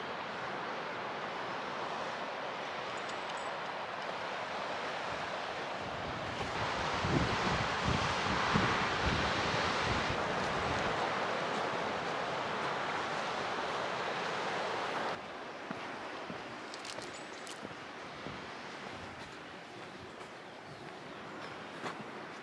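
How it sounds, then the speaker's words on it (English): Surf rumbles and crashes steadily nearby as waves break over coastal rocks in Cornwall, swelling louder for several seconds midway, mixed with gusty wind buffeting the microphone. "I love the way the waves bounce over the rocks."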